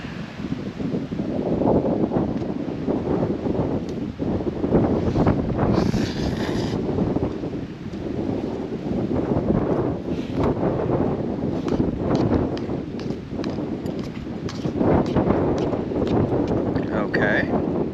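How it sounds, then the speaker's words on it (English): Strong wind buffets the microphone at a cold-weather campsite with a tent and a Honda Super Cub, a loud continuous rumbling roar with gusty swells throughout, and a voice speaking beneath it. "I feel like there's a strong wind blowing right at the camera now"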